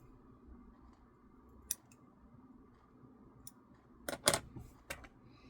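Scissors trim folded fabric for a St Patrick's Day shamrock table runner: a lone crisp snip, then a quick cluster of sharp cuts and one more near the end, set against a quiet room.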